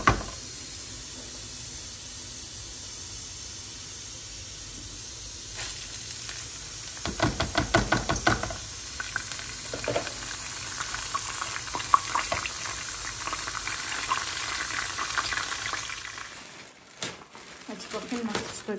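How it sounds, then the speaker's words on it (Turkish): Rice sizzles steadily as it is sautéed in a pan, a constant frying hiss with some stirring clatter in the middle and a short louder handling noise near the end. "Ben bir yandan pilavı kavurmaya başladım."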